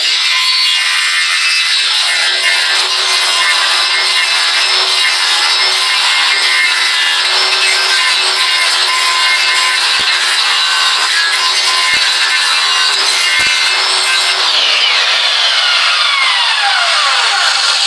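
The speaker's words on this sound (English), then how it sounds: "I'm using the circular blade as like basically smoothing it out from one side" Circular blade grinding and smoothing wood during a trailer renovation, a loud, continuous harsh rasping whine that holds steady with a few brief dips before a falling pitch sweep near the end.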